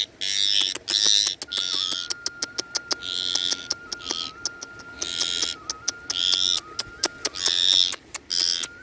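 Injured parrot with a damaged foot screeches repeatedly and loudly, harsh piercing calls coming in rapid bursts alongside sharp clicks, close up with no talk.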